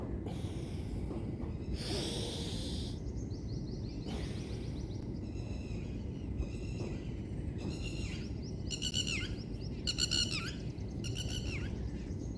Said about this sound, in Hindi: चिड़ियों की आवाज़ के बीच में इस प्रकार से योगासन करना, मेडिटेशन करना कितना अच्छा लगता है।